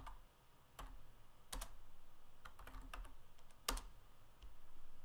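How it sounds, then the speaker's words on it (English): Typing on a computer keyboard in a quiet room, several sharp separate key clicks at an uneven pace, with one louder press like the enter key, close and clear over a faint hum. "I just continue to type and hit enter."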